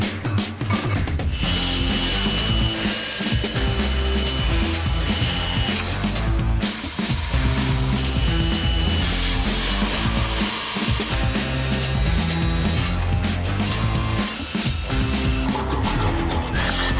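Continuous loud grinding and rubbing on the metal parts of a Prentiss No. 22 vise being cleaned up in a grinding room, with a steady dense roar and brief dips in the sound throughout.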